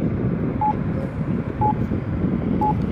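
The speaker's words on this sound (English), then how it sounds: "There's also the Australian walk sound on them, which is pretty neat." Australian-style walk signal from a Campbell Advisor accessible pedestrian signal at a newly installed intersection, giving three short electronic beeps about one second apart over steady traffic and wind rumble.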